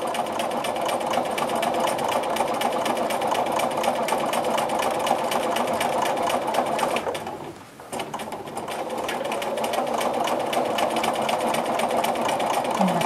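A sewing machine runs continuously while stitching a straight vertical quilting line, steady and close, pausing briefly midway before resuming at the same even pace.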